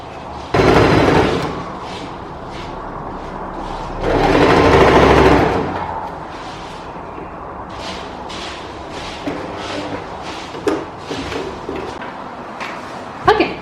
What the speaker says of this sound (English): fold the seam allowance in, and then just sew that with a straight stitch